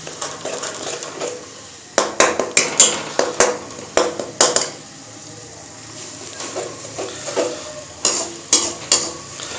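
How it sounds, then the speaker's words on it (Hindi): Garlic and ginger paste sizzles softly in a hot pot while a utensil stirs and scrapes against the metal in bursts. "लहसुन अदरक जो हम भून लेंगे, 1 से 2 मिनट लगेंगे, ये अच्छे से भून जाएगा।"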